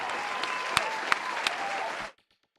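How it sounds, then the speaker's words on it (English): A short burst of dense applause with a few sharp louder claps, cutting off abruptly into near silence. "Round of applause, everybody, for Darb Keselowski."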